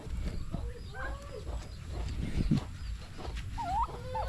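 Turkeys gobbling and chirping in short calls over steady farmyard background noise, fairly close but not loud.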